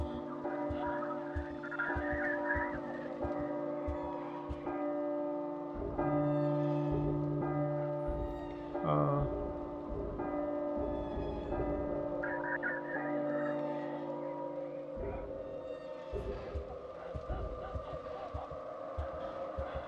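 Church-like bells ring out in the horror game P.T. (Silent Hills), sustained tolling tones layered over a low hum and shifting eerie ambience, steady and moderately loud throughout.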